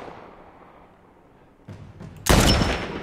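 A sudden loud gunshot blast erupts in The Last of Us after a few quiet seconds, with a fainter burst just before it, leaving a ringing tail.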